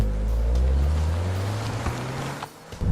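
A Peugeot 208 GTi's modern engine drones low and steady, humming continuously and dipping slightly near the end, with no talking.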